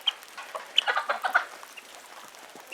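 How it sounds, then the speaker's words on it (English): Several guinea fowl call in quick, sharp bursts of clucks and chatter, close by and fairly loud, with a pause in the middle before a last call. "Watch these guinea."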